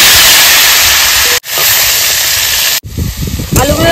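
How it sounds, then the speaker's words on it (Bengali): Potato pieces frying in hot mustard oil in a kadai for a home-style mutton curry, a loud steady sizzling hiss that briefly cuts out twice, with faint clatter near the end. "তেল গরম হয়ে গেছে, আলুর টুকরোগুলো ভেজে নেব।"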